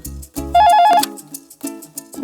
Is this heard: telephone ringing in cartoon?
yes